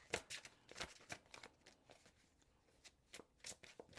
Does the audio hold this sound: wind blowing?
no